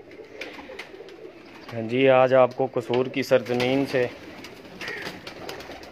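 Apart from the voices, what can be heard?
pigeons cooing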